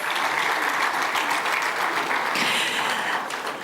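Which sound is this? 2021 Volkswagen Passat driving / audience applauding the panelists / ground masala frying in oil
audience applauding the panelists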